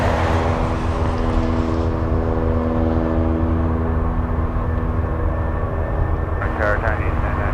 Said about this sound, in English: Let's go for the cargo lux, powering up.